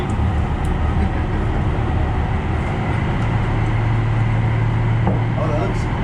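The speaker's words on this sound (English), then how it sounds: "Our first train." A Metro train arriving on the Regional Connector fills the clip with a steady, loud rumble and hum of rail cars, with a sustained tone rising in the middle and voices murmuring faintly.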